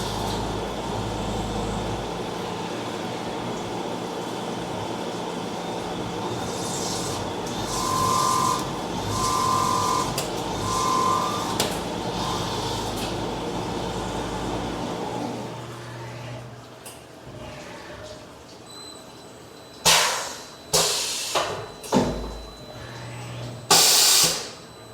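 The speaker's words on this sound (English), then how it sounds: "doing a pecking cycle in here. That's why it's going down, drilling, and then coming back up again." A CNC machine drills trailer lift blocks with a 5/16 bit in a pecking cycle, a steady machine hum and hiss with faint repeated drilling tones, then sharp intermittent bursts and clanks near the end.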